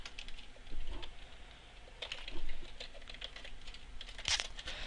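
Typing Java code on a computer keyboard, a steady patter of key clicks with a few louder strokes, close and alone with no talk.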